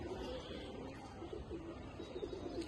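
Faint, soft coos from an old-bloodline Palla-line Giribaz pigeon in its loft come in a few short low pulses against quiet background noise.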